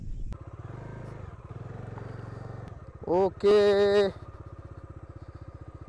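A motorcycle engine idles steadily at a campsite in Lavasa with a low, even throb. A person speaks briefly over it, followed by a loud vocal burst.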